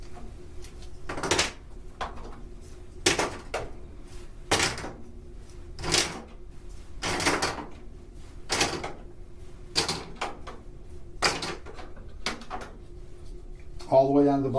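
Removable front bay doors on a Cooler Master CM Storm Stryker full tower gaming PC case being handled, making a series of sharp plastic clicks and snaps at irregular intervals, with faint talk underneath.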